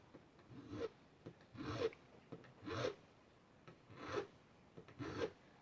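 Five slow, rhythmic rasping strokes of a file scraping the wooden neck of a guitar, close and fairly quiet, with short pauses between each pass.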